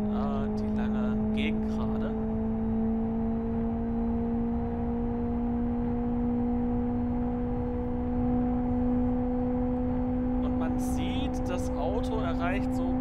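A car's engine in the Live for Speed racing game holds a steady, sustained drone as it accelerates down a long back straight, with someone talking over it.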